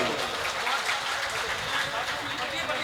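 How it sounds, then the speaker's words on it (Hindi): Audience applause at a Hindi poetry gathering (kavi sammelan) in Baghpat, 2018, welcoming a poet to the stage: a steady, dense wash of clapping from a crowd, sustained at even loudness throughout with no clear pauses. "आप तालियां बजाकर इनको बुलाइए"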